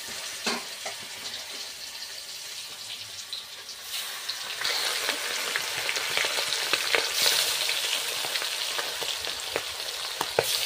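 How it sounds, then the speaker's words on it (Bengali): A 3 kg kan magur catfish, netted from a Sundarbans river, fries in hot oil with a loud, steady sizzle and crackle up close that grows denser partway through, with no one speaking. "কান মাছ তেলে ফোটে না খুব? বিশাল করে ফোটে।"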